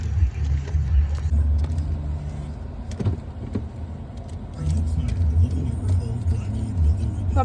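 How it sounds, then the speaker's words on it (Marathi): A newly bought car's engine rumbles steadily from inside the cabin on a test drive in the United States, with people talking over the road noise. "सो कार राईड चाललो आहे"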